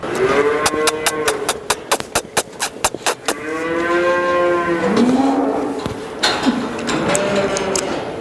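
Korean Hanwoo cattle moo loudly and repeatedly in a breeding barn, long drawn-out lows overlapping one another over a steady background hum and a run of rapid rhythmic clicking.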